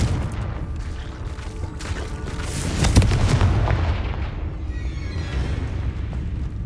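A Confringo blasting curse in Hogwarts Legacy goes off as a loud booming explosion with a sharp central blast, then a rumbling, crackling tail that slowly fades; no one speaks.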